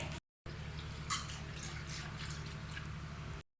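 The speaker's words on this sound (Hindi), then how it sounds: "इसके अंदर हम इसमें ज़रूरत डालेंगे ऑयल" Cooking oil pours into a pot on the stove, a soft, continuous liquid rush lasting a few seconds after a brief pause, faint and close, with no speech.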